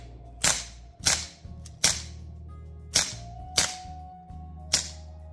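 A replica 9mm Glock is emptied in a magazine dump: six sharp, separate cracks at uneven gaps of under a second, loud and close over a low steady hum.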